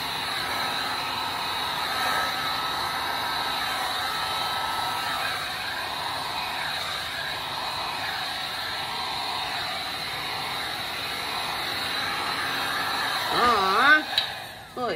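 A hot air tool blows steadily to heat epoxy resin on a 3D bloom flower tray, a continuous close, loud whooshing hiss that wavers slightly near the end.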